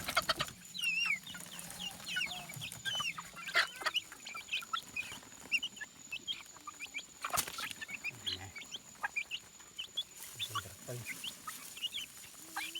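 Free-ranging farm chickens clucking around a rice-field homestead, with frequent short cackles and calls scattered near and far throughout, some louder bursts, and quiet voices talking in the background at times.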